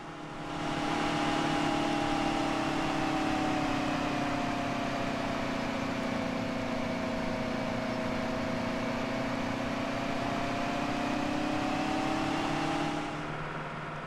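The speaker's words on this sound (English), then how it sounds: "we can listen to the sound of the tractor here." A video game tractor engine, a Big Bud in Farming Simulator 17, drones steadily at a constant pitch, loud and continuous, fading in at the start and out at the end.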